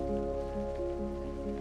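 Rain falls as a steady downpour over a pasture with grazing sheep, a faint, continuous hiss under a low tonal background hum, with no voices.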